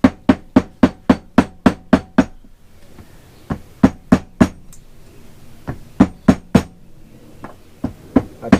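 Sharp metallic hammer blows ring out close and loud while punching out a bearing race from a Mercury 225 Optimax outboard lower unit, coming in quick regular runs separated by short pauses.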